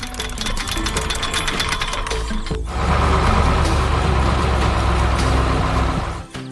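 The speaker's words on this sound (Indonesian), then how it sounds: "Perhatikan bagaimana lengan bor itu bergerak dengan kuat, mengikis tanah dan batuan keras dengan sangat efisien." A trencher drill arm grinds through soil and hard rock at a power line construction site, a loud continuous mechanical churn that deepens and grows heavier partway through and stops abruptly at the end.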